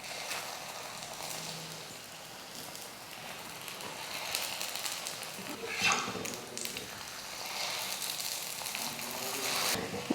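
A parotta fries in oil on a hot tawa, producing a soft, continuous crackling sizzle that swells slightly midway and again toward the end.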